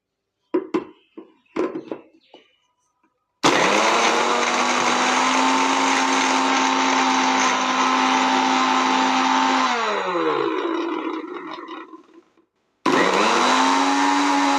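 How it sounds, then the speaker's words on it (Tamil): A mixer grinder whirs steadily as it blends coffee powder with three ice cubes, running for about six seconds before winding down, then starting again; a few clinks of ice come first. "மிக்சியில் நல்லா அரைச்சி எடுத்துடலாமா?"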